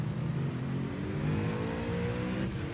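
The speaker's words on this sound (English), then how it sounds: "Gonna hold 5 here and just rev it out." GT3 race car engine in iRacing at Spa, revved hard and held in fifth gear, a steady loud drone with rising harmonics throughout, no talk.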